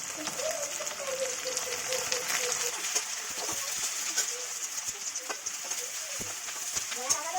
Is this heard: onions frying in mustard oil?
yes